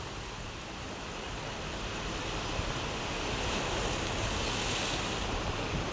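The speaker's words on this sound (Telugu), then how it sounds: "అంత పెద్ద పెద్ద అలలు వస్తాయి." Large, rough ocean waves breaking on the shore make a continuous close roar and wash, mixed with wind buffeting, with no voices.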